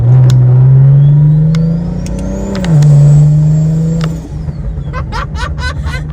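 Modified BMW engine revving hard and loud up close, a sustained roaring drone that dips briefly and climbs again before dropping away to a lower rumble.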